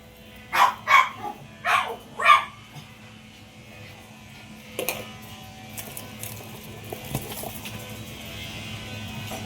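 Choco the dog barks four times in quick succession, loud and close, then the scene falls to quieter handling and rustling noises with no further barking.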